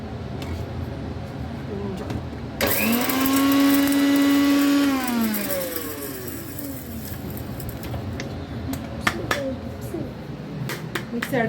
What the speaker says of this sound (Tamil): மிக்ஸி அடித்தாச்சு பாருங்கள்.